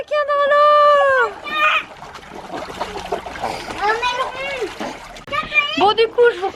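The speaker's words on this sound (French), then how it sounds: "Les petits sont en train de jouer dans la piscine." Young children splashing as they play in a swimming pool, with excited kids' voices and shouting over scattered water splashes.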